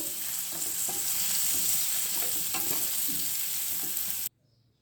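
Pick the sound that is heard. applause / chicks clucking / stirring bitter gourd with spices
stirring bitter gourd with spices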